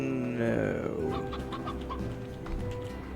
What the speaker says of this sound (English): Is there any more painted hen-hens anywhere?